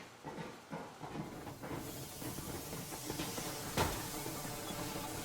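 Steam train Aurora from Metro Exodus pulling away, a steady broadband hiss and rumble of escaping steam with low mechanical churning, building slightly in intensity with a sharp burst partway through.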